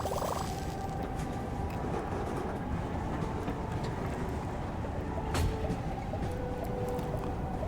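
A steam-era train from the video game Frostrain 2 runs with a continuous dense rumble and clatter, steady and fairly loud throughout, with faint whistle-like tones on top.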